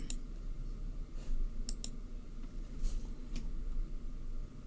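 Computer keyboard typing with soft scattered clicks and a few sharper key taps over a steady low background hum, no talking.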